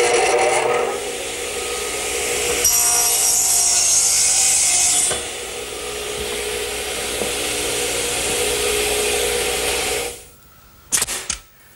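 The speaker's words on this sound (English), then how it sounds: "First, you square up the end of the board, then you run it to the stop and trim it up." A saw trims a wooden board to length against a stop while an outdoor lidded bench is being built. One loud, continuous rasping cut lasts about ten seconds, then cuts off and is followed by a few brief knocks.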